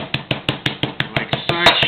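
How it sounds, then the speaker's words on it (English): Beef under a sheet of plastic is pounded with a meat tenderizer, about nine sharp, evenly spaced thuds close by, with a brief voice near the end. "Lightly pound the beef"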